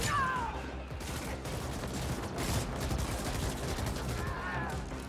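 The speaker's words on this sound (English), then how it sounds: "Homing bullets indeed, huh?" Homing bullets fired in the sci-fi action game The Ascent, a dense, continuous stream of loud gunfire and impacts with whooshing projectile streaks, relentless for several seconds.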